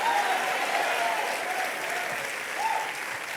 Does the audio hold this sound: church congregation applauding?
yes